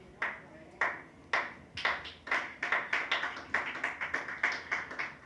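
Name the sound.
one person clapping in church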